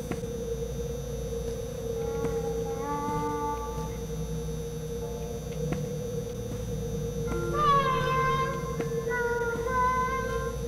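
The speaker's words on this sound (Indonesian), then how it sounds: "Suara kucing apa?" A cat meows several times over a steady electrical hum, the rising and falling calls fairly clear and mid-distance, the loudest cluster coming late in the stretch.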